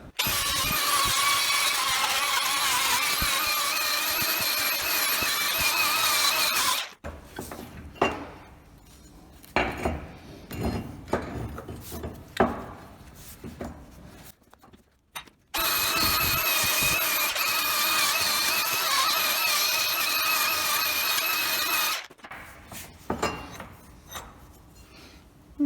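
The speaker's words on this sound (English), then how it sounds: "now we'll give it all a clean up with the wire wheel and the grinder" An angle grinder fitted with a wire wheel scrubs a Land Rover Discovery 4 brake caliper, running in two long, loud, harsh bursts of about seven seconds each, separated by clanks and knocks of handling the part.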